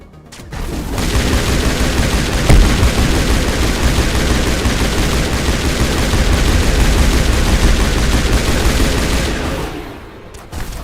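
Loud, continuous gunfire from the video game Mass Effect 1, with shotguns among the weapons: rapid overlapping shots and blasts run without a break for about nine seconds before dropping away.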